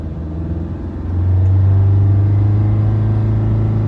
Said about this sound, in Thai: ผมจะเร่งเครื่องไปนะครับ